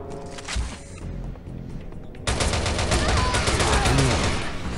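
Gunfire in the mobile shooter Frontline Commando: Rivals, starting with scattered shots over game noise and then a loud, sustained burst of rapid automatic fire that continues to the end.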